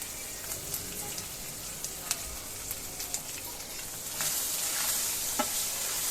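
Spices cooked down in hot oil with eggplant and dried fish sizzle and crackle steadily, with scattered stirring clicks and a louder burst of frying toward the end.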